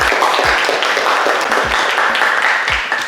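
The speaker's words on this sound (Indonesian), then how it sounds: "Baik, tepuk tangan untuk semuanya." Applause from a class of students at the close of an automotive engineering lesson, a steady dense patter of clapping hands filling the whole stretch at close range with no voices over it.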